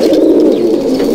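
Black pigeons in a home loft coo in a low, continuous throaty murmur, close and fairly loud, with no voices.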